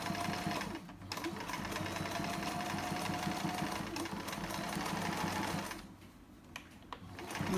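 A sewing machine stitches a chair pouch along a curved line, its rapid, steady mechanical chatter running close and continuous with a short slowdown near the end.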